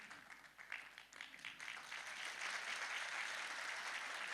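A crowd applauds a singer at the final night of a new-voices song festival in Vittorio Veneto, a dense, steady clapping that swells and holds strong throughout.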